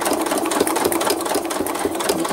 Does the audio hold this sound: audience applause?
no